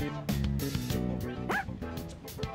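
Koromaru, the dog in Persona 3 Reload, gives short yips and whimpering bow-wows while being brushed, several bright barks spread over a few seconds against light game background sound.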